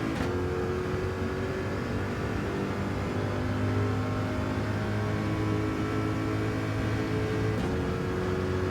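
Corvette race car in Gran Turismo 7 running down the straight at Le Mans, a steady sustained engine drone at high revs, continuous and fairly loud with no voices.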